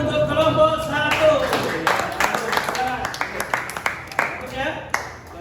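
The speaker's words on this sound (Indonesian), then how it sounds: "Tepuk tangan untuk kelompok 1." Schoolchildren in a classroom clap for a group that has just presented in an Islamic studies lesson, scattered claps breaking into a quick rhythmic run of sharp hand claps, with a teacher's voice heard at the start.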